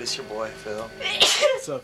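A loud, close sneeze bursts out in the middle of a man's casual speech, with talking continuing right before and after it.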